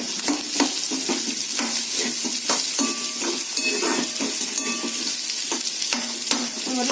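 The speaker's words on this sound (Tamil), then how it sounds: "வதக்கிட்டு நம்ம போட்ட உருளைக்கிழங்கையும் போட்டுறோம்." Potatoes and onions sauté in a hot pan, a steady sizzle of frying with repeated scraping and stirring clinks of a utensil against the pan, close and continuous with no talk.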